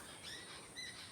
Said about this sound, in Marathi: आणि काय पक्षीचं किलबिलाट चालू आहे बघा